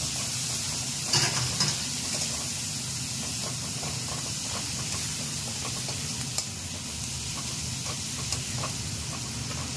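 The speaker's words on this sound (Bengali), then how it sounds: "পেঁয়াজটাকে একটু ভাজা করতে হবে।" Onions sizzle in oil for prawn do piyaji, a steady, fairly faint hiss with occasional stirring clatter and a few sharper pops.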